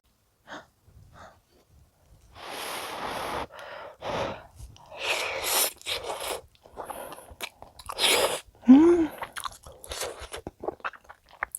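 Fried rice with kimchi, cheese, seaweed flakes and sesame oil is chewed close to the mic, with crunchy bites, wet mastication and breaths in an irregular run of mouth sounds, no talk.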